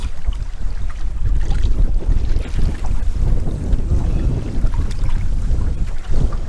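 Strong cold wind buffets the microphone while paddling on McCrae Lake, a steady loud roar of gusts with splashing water underneath and no voices.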